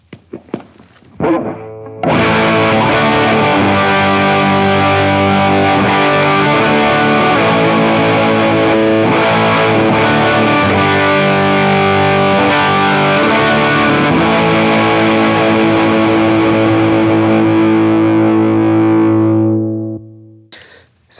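Electric guitar run through a Boss Waza Craft Blues Driver pedal set to custom mode, a brief pick noise then sustained overdriven chords ringing loud and full for most of the stretch before fading out, no voices.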